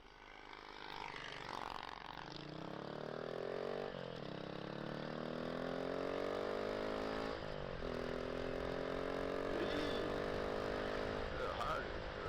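A cruiser motorcycle passing by outdoors, its engine note rising and sweeping in pitch as it approaches and goes past, fairly loud and continuous, with a second engine sweep near the end.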